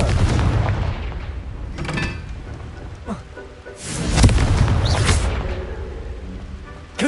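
Loud blasting spell bursts from Hogwarts Legacy, booming explosions at roughly two-second intervals over a rumbling, thunder-like game soundscape, with no talk heard.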